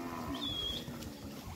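Cattle low and moo while being herded for vaccination, one drawn-out call standing out over a steady background of shuffling animals and farm noise, no clear speech.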